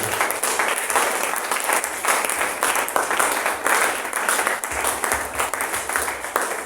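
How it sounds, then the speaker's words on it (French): A church congregation claps together during a service. The clapping is dense and continuous, with a loosely rhythmic pulse, loud and close, and no clear voices above it. "Clap for the Lord."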